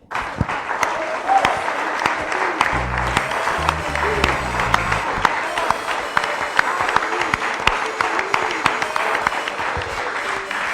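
A worship congregation applauds in church, with dense sustained clapping from many hands lasting throughout, a low musical tone briefly underneath and faint voices mixed in.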